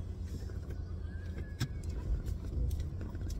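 A car engine idles and hums softly as the car is straightened in a parking spot beside another vehicle, a low steady rumble with small bumps and shifts, heard from inside or nearby.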